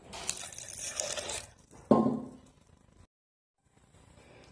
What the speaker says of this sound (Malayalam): കുറച്ച് വെള്ളം പാർന്നിട്ട് അരച്ചെടുക്കാം